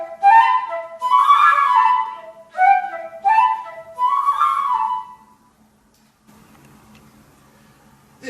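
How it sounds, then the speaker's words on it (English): A flute plays a short melodic phrase of several clear, breathy notes in a moderate rhythm, close and fairly loud, followed by near silence with faint soft handling noise. "So we hold the flute to the side like this, and it sounds like this."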